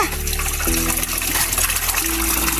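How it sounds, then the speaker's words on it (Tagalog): Water gushing and splashing steadily on farmland, a continuous close-up flow with a bubbling, trickling texture and no voices. "May tumutulong tubig."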